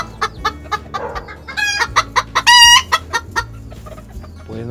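A hen clucking in a series of short, close calls, with a few longer drawn-out squawks in the middle, over quiet background noise.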